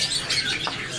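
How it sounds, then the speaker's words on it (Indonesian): A male Javanese kolibri wulung, a small sunbird, gives short high chirps and twitters close by, a brief bright burst of song over faint background noise. "Di sini ada burung kolibri wulung ya. Jantan Jawa. Sudah ngepur."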